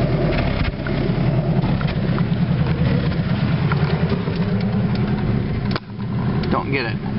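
A car engine idling with an uneven, sputtering misfire, steady and close, loud throughout with a brief dip near the end; a person talks over it.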